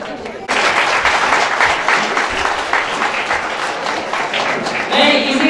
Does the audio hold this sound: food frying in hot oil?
no